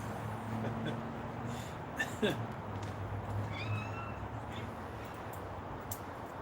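House cats let out a couple of short, faint meows and chirps against a steady indoor hum, with someone talking nearby.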